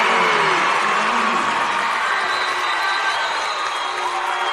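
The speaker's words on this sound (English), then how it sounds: "The Glenpool crowd going crazy. I know you can hear them." Glenpool high school basketball crowd roaring after a made three-pointer in a close game against Bethany, a dense, steady wall of cheering and shouting that holds at full volume throughout with no break.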